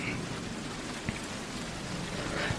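Steady rain from a storm hisses over surfaces in a dense, even wash, with a faint low rumble and scattered drip taps, moderately quiet and continuous.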